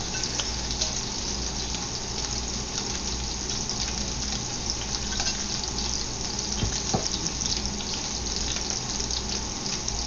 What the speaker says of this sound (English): you shouldn't take more than 5-6 minutes tops to cook shrimp